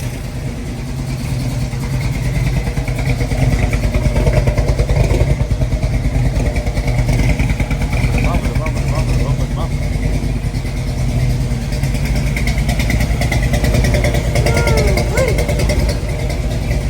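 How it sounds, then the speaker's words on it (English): A large V8 pickup truck engine idles steadily and loudly throughout, a continuous low rumble with faint mechanical clatter. "Got it idling."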